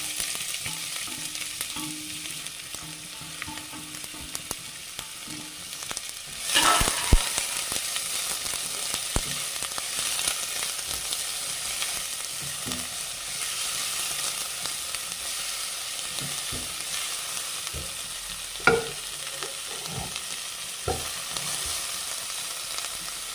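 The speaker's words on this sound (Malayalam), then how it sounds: "നമുക്ക് അടുത്തായിട്ട് വേണ്ടത് ഒരു വലിയ സവോള അരിഞ്ഞിട്ടുണ്ട് അത് ഇട്ട് കൊടുക്കും" Sliced large onion sizzles steadily in a hot pan for a Kerala breakfast side dish, a continuous soft frying hiss with a louder burst as it goes in and occasional stirring scrapes and taps.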